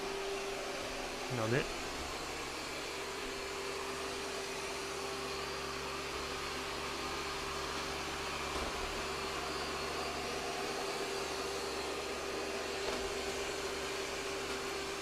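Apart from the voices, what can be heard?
Ecovacs Deebot T30 Omni robot vacuum sucking up kibble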